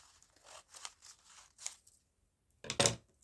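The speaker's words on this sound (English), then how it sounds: "So this one I am going to trim down a bit," Paper pocket for a junk journal being trimmed with scissors: a series of crisp, close snips in an irregular rhythm, a pause, then a louder final crunching cut.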